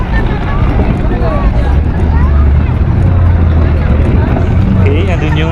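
Island-hopping boat off Boracay running with a loud, continuous engine drone and wind buffeting the microphone, while people talk over it.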